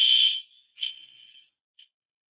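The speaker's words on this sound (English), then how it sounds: "that is a fire alarm that just was pulled or has just gone off" A fire alarm sounds in the background of a live indoor talk, a thin high electronic tone in short separated bursts, fairly faint and fading in and out.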